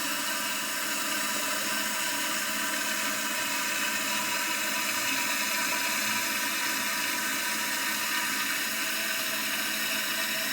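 Toilet tank refilling through an inlet valve with lime scale build-up, a steady hissing rush of water with a low droning hum, constant and close for the whole span.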